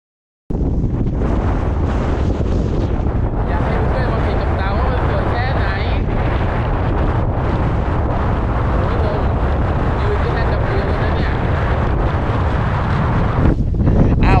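Strong, constant wind buffeting the microphone on a hilltop near Bolungarvík, Iceland, a loud roaring rumble that fills the whole clip without a break.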